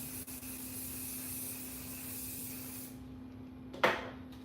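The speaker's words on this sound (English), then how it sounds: "It's firm holding spray by Influence. Give it a nice spray." A steady hiss of an aerosol firm-holding hairspray runs for about three seconds, stops, then a short sharp spray burst follows.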